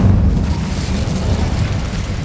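A loud, sustained roaring boom fills the moment as an Incendio fire spell explodes in Hogwarts Legacy, dense and low with no speech.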